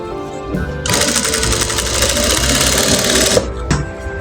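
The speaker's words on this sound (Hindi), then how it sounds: "आधा इंच का सिलाई दूंगा" A sewing machine stitches cushion fabric with a steady, loud, close mechanical whir that starts after a brief lead-in and runs for about three seconds before stopping, followed by a couple of small clicks.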